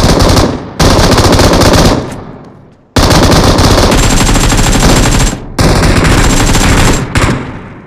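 Loud, sustained automatic gunfire from PUBG Mobile, rapid bursts running nearly continuously with a few short breaks and no talk.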